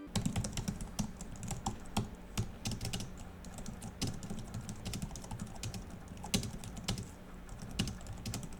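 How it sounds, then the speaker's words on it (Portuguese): Fingers type on a Logitech MX Keys keyboard, producing quiet, irregular soft clicks and taps in quick bursts, close up and alone without speech. "Falando um pouquinho aqui de barulho, eu vou botar um vídeo pra vocês aí da digitação dele"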